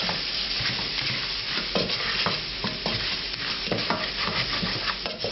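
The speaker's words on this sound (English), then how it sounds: "start it cooking in the hot oil, and then we're going to add the onion, the ginger that was coarsely chopped, and, well, actually, I'm going to stir this around for a minute." Onion and ginger stirred in hot oil for a restaurant-style lamb bhuna curry, giving a loud, continuous sizzle broken by repeated scraping strokes of a spoon against the pan, close up with no talking.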